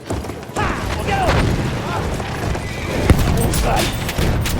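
In the Battlefield 1 video game, a cavalry horse gallops and whinnies amid a dense mix of gunfire, booms and battle clatter, with voices speaking over the noise.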